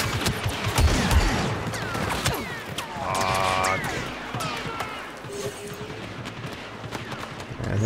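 Rapid, clattering gunfire from Star Wars Battlefront 2 fired from the hip, in close bursts alongside impacts and explosions with a busy battle texture, loud throughout.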